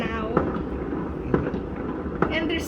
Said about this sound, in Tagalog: It's literally, there's still fireworks